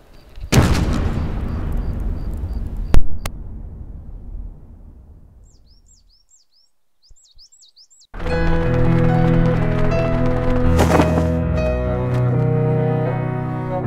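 A loud explosion in The Whispered World bursts and rumbles away, then after a near-silent pause with small chirps, dense game music and ambience swell up and continue.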